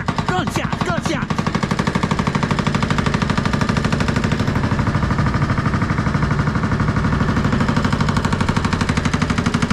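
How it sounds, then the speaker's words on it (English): Loud, rapid gunfire rattles nonstop as dense, fast bursts of shots that blur into one continuous crackle for the whole stretch. "Oh, watch out! Gunshots!"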